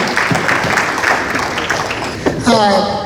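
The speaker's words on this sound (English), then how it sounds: "So please give him another round of applause." Applause from an audience fills the room, steady clapping with a voice speaking over it toward the end.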